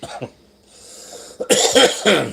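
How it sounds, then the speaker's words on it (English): A man coughs a few times in harsh, rough bursts, close up, with a brief pause between fits. "I gotta stop this coughing"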